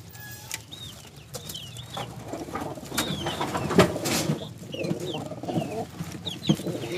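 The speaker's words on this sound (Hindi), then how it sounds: "जी वासे खां, ये कौन सा कबूतर है जो रेड है?" Pigeons kept as a child's hobby coo in low, rolling calls from close by, mixed with other bird chirps and general movement noise from the birds.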